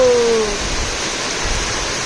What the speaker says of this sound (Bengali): কত দিনের গরমের পর আজকে ফাইনালি বৃষ্টি নেমেছে